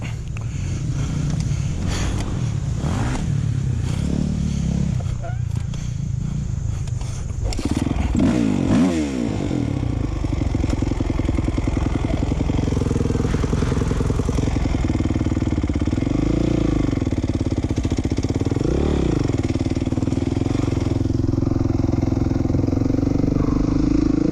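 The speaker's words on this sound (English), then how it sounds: "Oh, bike didn't want to start." A motocross dirt bike engine at a motocross park sputtering and revving, with clattering at first, then settling into a steady loud idle with occasional rising revs, close by.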